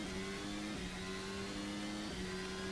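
Race car engine revving on a track at an ACF1 race at Pineda, heard at a distance with repeated rising runs up through the gears, each run cut by a short drop at the shift, alone with no talk.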